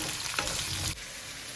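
Cauliflower, chickpea and potato curry frying in a pan over high heat makes a dense, loud hiss broken by a few spoon-stirring scrapes, heard close with no voices.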